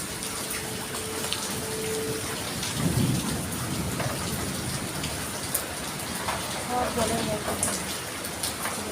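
Heavy rain pours steadily over a flooded residential colony in Jadavpur, Kolkata, with a dense hiss throughout. Thunder rumbles low near the middle of the downpour.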